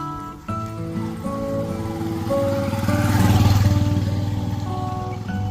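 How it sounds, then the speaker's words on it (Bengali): A motorcycle engine drones steadily on a village dirt road, growing louder as it nears and then holding a strong, throbbing hum before easing slightly. "ওরা বাইক দিয়ে যাইতেছে"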